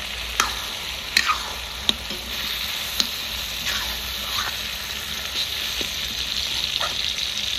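Mutton frying in oil in a village-style Rajasthani jungle mass cook, a steady hiss and sizzle with scattered pops and drips, a few sharper crackles standing out near the start.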